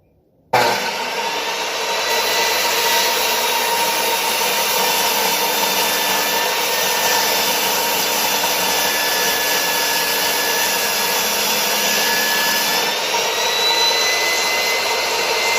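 A power saw rips a wooden board lengthwise to make a mallet, starting abruptly and running as a loud, steady whine with continuous cutting noise and no pauses.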